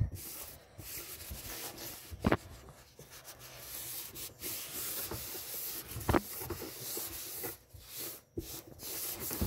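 Close, continuous scrubbing and rubbing of a wet surface with water goes on with uneven strokes and a few sharper knocks, at fairly low volume.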